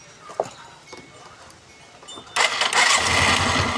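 A Suzuki Skydrive 125 scooter engine, just fitted with a new spark plug, cranks briefly with faint clicks, then catches and settles into a steady, close idle.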